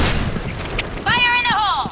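A grenade explodes in the Point Blank shooter game with a short, loud boom, then a voice shouts over the fading rumble.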